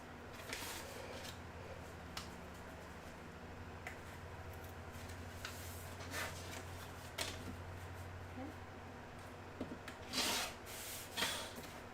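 Quilt fabric seams trimmed by hand with rubbing, rasping cuts at a low, steady level, a few sharper snips standing out near the end, alone without talk.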